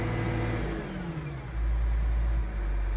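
A Case Magnum 7210 Pro tractor engine holds steady at 1800 rpm, giving a loud, continuous mechanical drone with a deep low-end hum and no voices over it.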